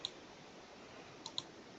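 Faint, quick mouse clicks, a single one near the start and then a pair close together toward the end, set over a low, steady room hiss during setup of a Discord server.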